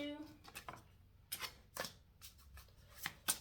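Quiet riffling and snapping of shuffled cards in short bursts, close and soft, with a brief voice at the very start.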